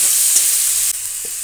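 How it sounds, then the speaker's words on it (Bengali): Boiled jackfruit frying in hot oil gives a steady, loud, close hiss of sizzling, with a couple of faint stirring knocks and no voices. "ওই তেলের মধ্যে এবার শুধু এঁচোড়টাকে ভেজে নেব।"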